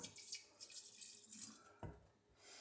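Tap water running into a pot being rinsed out after sugar, a soft faint splashing hiss that swells and dips with a brief louder splash near the end.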